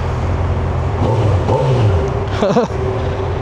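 A Honda CB1000R naked motorcycle with its stock exhaust idles loudly and blips its throttle, the engine note rising and falling in quick revs. A voice briefly speaks over it.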